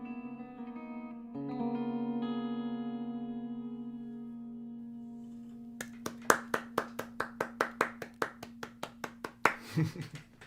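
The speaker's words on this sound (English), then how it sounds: "I feel like it's so important for me to like actually make clapping noises" A sustained synth chord fades into a run of about fifteen evenly spaced claps, sharp and echoing with a processed quality, ending in a brief louder flurry.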